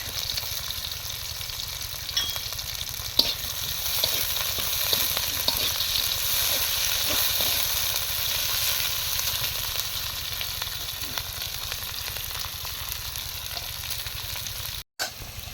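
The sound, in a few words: green chilies frying in oil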